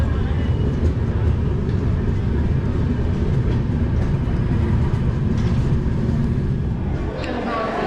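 A passenger train stands halted at Moradabad station, giving a steady low rumble and broadband hum with faint clanks, heard from inside a carriage under background voices.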